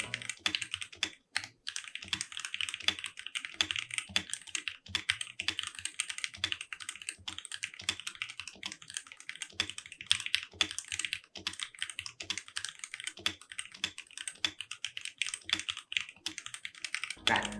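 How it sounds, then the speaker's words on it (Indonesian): Fast continuous typing on a VGN ATK68 compact mechanical keyboard with an aluminium case, dense clicky keystrokes rattling steadily and close up with no voices. "Kalian akan langsung paham ketika kalian mendengarkan sound sample dari keyboard"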